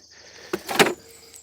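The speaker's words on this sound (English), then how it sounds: "let's see if I can get this door open" A car door on a scrap car is forced open, giving a sharp metallic clunk followed by a louder grinding scrape of stiff hinges, close by and alone.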